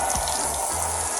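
Tap water gushing steadily into a tub to fill a bubble bath for a dog, a continuous close rushing stream with a low splashing undertone.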